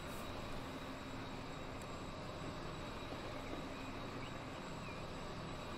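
A freight train runs in the railway simulation game Transport Fever 2, giving a steady, continuous, fairly faint rumble with no talk.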